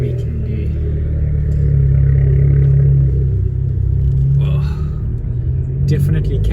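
An Abarth 595 engine drives in sport mode as a low, steady rumble from inside the car, swelling slightly and holding a gruff drone throughout.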